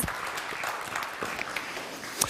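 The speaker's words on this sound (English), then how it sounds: "Let's give a round of applause" At a Speedway World Championship press conference, the audience claps in a brief, continuous burst of applause, steady and moderately loud with a sharper clap near the end.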